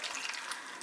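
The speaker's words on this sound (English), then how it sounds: "taking a little bit of the wine and just pouring it over" Wine poured over food in a crock pot, a brief soft hiss of liquid splashing, faint and close, lasting under a second.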